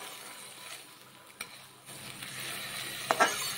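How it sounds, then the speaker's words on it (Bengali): Soaked rice and vegetables fry gently in a pan over low heat, a faint steady sizzle with occasional soft stirring scrapes and a brief clink of a utensil near the end. "ধীরে ধীরে বেশ খানিকক্ষণ ধরে ভাজতে হবে সবজি সমেত চালটাকে"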